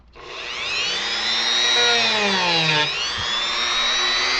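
A high-revving power tool carves and roughs out the base of a Final Fantasy V inspired model platform, spinning up quickly and whining steadily with pitch dips under load; loud, close, no speech.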